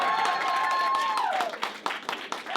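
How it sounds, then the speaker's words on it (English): Audience applause breaks out at a live presentation after a request to clap, a dense wash of claps with crowd noise beneath a lingering tone, thinning into scattered individual claps toward the end. "Y'all go ahead and clap"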